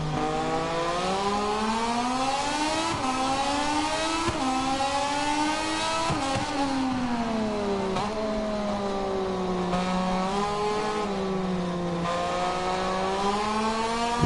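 A Moto2 racing motorcycle engine holds a steady high-revving whine that rises and dips as it brakes late into a corner during a race, loud and close throughout with no talk.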